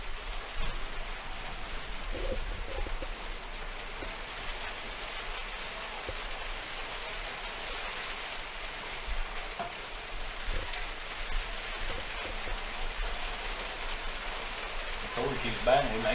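Steady rain hisses down over an outdoor baseball game, a constant even wash of drops that lasts throughout, with a commentator's voice talking over it at times.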